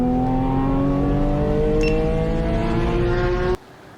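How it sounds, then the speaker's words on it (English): A BMW M3 track car with a loud Dundon exhaust holds a steady, droning tone close by, rising slightly in pitch, then the engine note cuts off abruptly near the end. "The Dundon exhaust is really loud, but it sounds like a race car."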